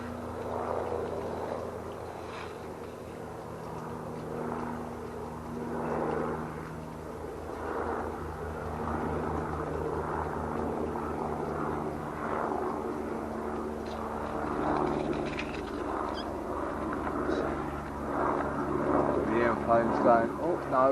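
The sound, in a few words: helicopters and airplane flying overhead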